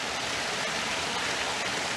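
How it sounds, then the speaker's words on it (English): Water running over a stream crossing on a forest hiking trail, a dense, steady rushing wash that stays close and continuous throughout. "And another stream crossing."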